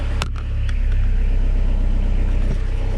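A Suzuki Baleno car engine idling right after starting, a steady close rumble with a brief clatter at the start, droning evenly throughout.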